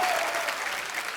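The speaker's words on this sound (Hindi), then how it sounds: "जोरदार तालियां मेरे लिए।" Studio audience at a comedy show breaks into dense, sustained applause, a steady wash of many hands clapping at once that fills the room without a break.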